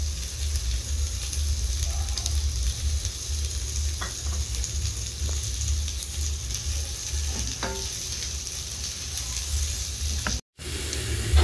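Boiled eggs frying with onions and masala in a pan for an Indian egg fry, a continuous close sizzle with a few soft stirring taps, no talking.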